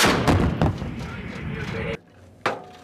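A USMC howitzer fires with a loud, close boom that rumbles and decays for over a second, followed by another heavy blast after a short silence during live artillery training.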